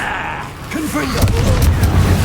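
Confringo spell blast in the Hogwarts Legacy video game: a chanted incantation followed by a deep, rolling explosive boom that rumbles on under the game's sound.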